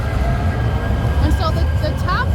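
A train rumbles past close by with a steady low roar and faint squealing wheel tones, loud and continuous throughout, while a voice talks over it.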